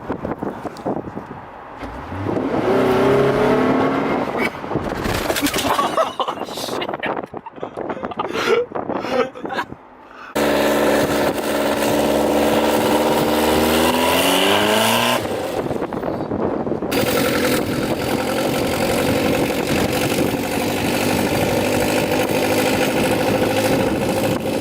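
A station wagon's engine cranks over after a jump start from a jump box, then settles into a loud, steady running note that continues close by for the rest of the stretch.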